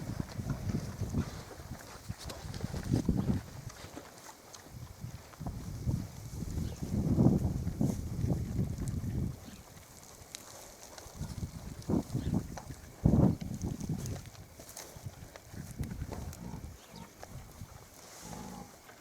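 Pigs eating alfalfa, munching and chewing nearby in irregular bursts, with occasional grunts and snuffling against a low background hum.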